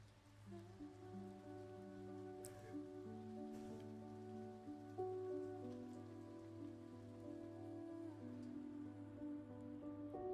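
Steady rain falls in the video game Ori and the Blind Forest, a soft even patter with layered background music tones running underneath, moderately quiet and continuous throughout with no talking.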